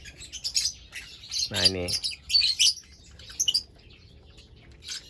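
Small caged birds from a violet-split breeding pair give bright, scattered chirps and tweets up close, including one buzzy trill. A person speaks briefly near the start.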